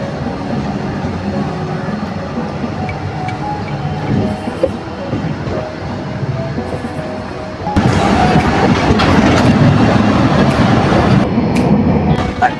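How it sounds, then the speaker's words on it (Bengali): The Howrah–Puri Vande Bharat train pulls into Howrah station, a loud steady rumble of rolling wagons and wheels that swells sharply partway through as it passes close by. "হাওড়া পুরী বন্দে ভারত ঢুকছে এখন হাওড়াতে"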